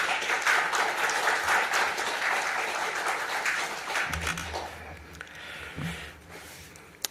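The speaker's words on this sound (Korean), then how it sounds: "그런 마음으로 박수로 환영하겠습니다." A church congregation claps in welcome during a Korean worship service, a loud sustained round of applause that thins out and fades in the last seconds, with a low hum and faint voice-like sounds underneath.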